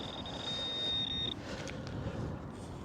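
Metal detector signal tone sounding over a blob of lead in a field heap, a steady high electronic whine held for over a second, then stopping, with outdoor noise and faint rustle beneath.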